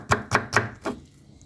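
A knife cuts onion into thin julienne strips on a cutting board for Indian-style basmati rice, giving four crisp, evenly spaced chops that fade out.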